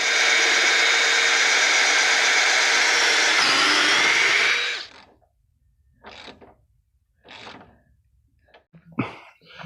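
A loud, steady power drill bores holes into a wooden 2x6 for several seconds, then stops, followed by a few brief knocks and scrapes of handling.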